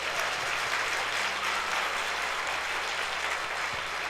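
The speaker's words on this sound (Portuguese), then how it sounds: "Pode dar um aplauso a Jesus." Applause from a church congregation during a Sunday worship service, a steady, dense wash of clapping that holds at an even level from start to finish, with no voices standing out.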